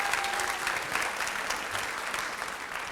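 An audience claps steadily through a school opening-day presentation, a dense, even wash of applause from a roomful of people with no talking over it.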